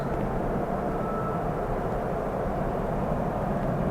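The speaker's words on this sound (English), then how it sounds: "Sounded like an airplane. I didn't realize it was the game." Steady broadband airplane-like rumble from The Town of Light video game, a continuous low droning roar holding level throughout with no talk.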